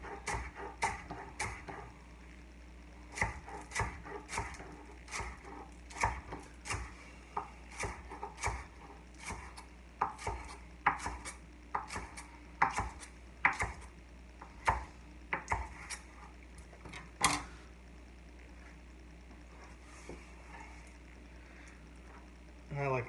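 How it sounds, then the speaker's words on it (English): A knife chops green onions into long slivers on a cutting board, making a steady series of crisp, close taps in uneven bursts, with soft handling noises between them. "green onions, so I'm going to cut the green part off"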